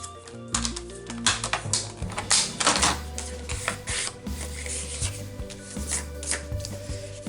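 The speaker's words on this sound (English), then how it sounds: "I'm just going to cut this down." Scissors cut through a piece of black paper during a handmade file folder and journal card project, a run of crisp, close snipping and rustling strokes in an irregular rhythm.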